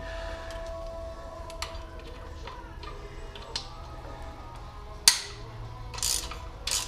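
A socket wrench ratchets on bolts during a Cobra PowerFlo install on a Yamaha V Star 950 motorcycle, with quiet irregular clicking, a sharp metallic snap near the end and a few brief rasping bursts.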